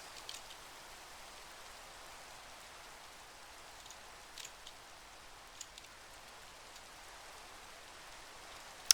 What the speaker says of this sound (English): oh good, there's rain.